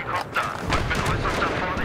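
A Viper attack helicopter in Battlefield 3 fires in a rapid run of sharp cracks and booming impacts, loud and near, with someone talking over the gunfire.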